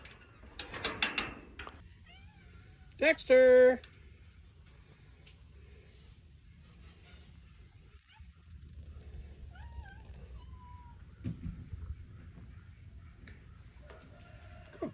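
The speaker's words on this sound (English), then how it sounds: "I can tell the cats want to come out" Barn cats on a farm meow in a few separate bursts, one loud drawn-out cry near the start, with a short called name and quiet stretches between.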